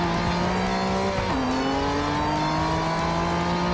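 A car in the racing game Test Drive Unlimited Solar Crown drifts under braking, its engine holding a steady loud drone whose pitch drops sharply as the brakes bite, then hums on continuously with faint tire noise.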